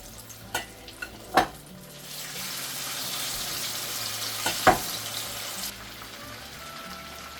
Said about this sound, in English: So I'm going to start frying my yam.